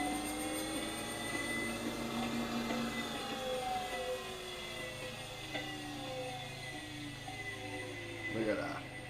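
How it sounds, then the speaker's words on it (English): Electric motor in a test powertrain for an E39 spinning up, with rising and falling whining tones over a steady drone and faint talking underneath. "Ooh, motor shaft go spinny."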